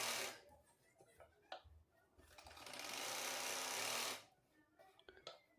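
A sewing machine stitches lehenga gore panels in one short, loud run of a second or two, with quieter handling sounds and a voice before and after.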